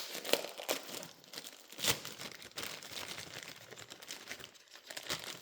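Tape being handled while wrapping reassembled synchronizer parts from a John Deere 3010 tractor top shaft, heard as close, irregular crinkling and tearing bursts that come and go alone.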